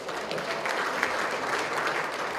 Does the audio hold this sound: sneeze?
no